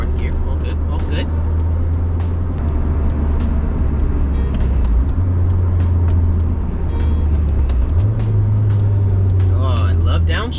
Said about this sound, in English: Oh, I love downshifts.